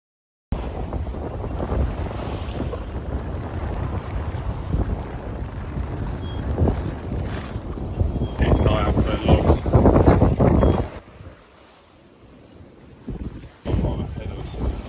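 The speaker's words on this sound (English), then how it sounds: "we tacked our way into Hardy Bay with a double reefed main and genoa" Sailboat tacking into a bay under a double-reefed main and genoa in 20 to 25 knot northwesterly winds, with steady loud wind buffeting the microphone and water rushing past the hull, easing briefly near the end before gusting back.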